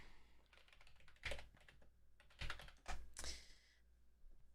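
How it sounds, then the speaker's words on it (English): Quick typing on a computer keyboard, with bursts of clicky keystrokes and short pauses between them, close and fairly quiet with no talking. "I was typing too quickly"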